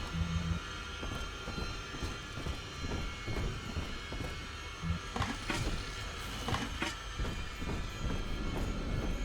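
A train starting up in the game BioShock 2, with rhythmic rumbling and clanking of rail cars, metallic clatter and brief squeals building up over a steady mechanical hum, fairly loud and without speech.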